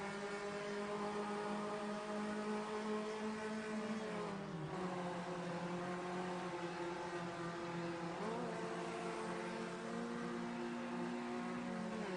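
A sim racing video game car engine drones steadily and fairly faintly, its pitch dropping and shifting twice as it downshifts.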